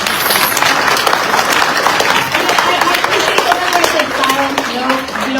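Audience clapping at a city council meeting, a dense, steady burst of applause filling the room, loud and close, with voices mixed in.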